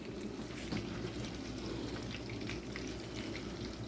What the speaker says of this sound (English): We're going to fry these on both sides.